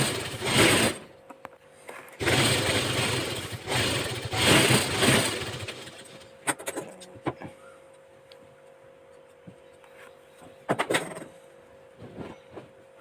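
A sewing machine stitching the centre seam of a high-neck top runs in several loud whirring bursts, then falls quieter with scattered clicks and short taps.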